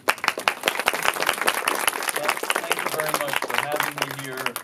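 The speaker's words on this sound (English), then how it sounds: "Please, warm round of applause." Audience applause welcoming a filmmaker to a masterclass at a film festival, a steady round of many hands clapping close by with crowd noise.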